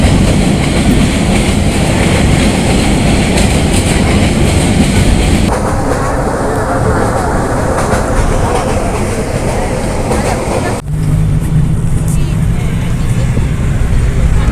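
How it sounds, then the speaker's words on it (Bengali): Aboard a passenger train bound for Chittagong, a loud, continuous rumbling ride fills the cabin with steady clickety-clack from the wheels, and the tone shifts abruptly partway through. "আমরা এই ট্রেনে করে চট্টগ্রামে যাচ্ছি।"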